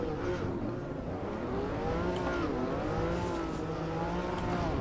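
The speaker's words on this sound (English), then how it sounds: "Car sounds good." A race car engine in the Assetto Corsa Evo racing game howls continuously, revving up and down through gear changes, loud and steady with no talk over it.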